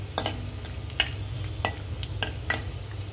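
Chopped ginger and garlic sauté in a hot pan with a soft, continuous sizzle, while a spatula scrapes and stirs in sharp strokes roughly once a second, close and clear with no talking.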